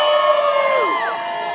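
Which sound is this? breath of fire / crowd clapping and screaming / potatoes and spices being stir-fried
crowd clapping and screaming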